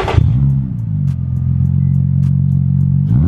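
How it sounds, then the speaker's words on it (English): A Nissan 350Z with a Z1 Motorsports exhaust revs up hard, then settles into a loud, deep, rumbling idle close by, with faint clatter on top. "Let's hear some revs, bro."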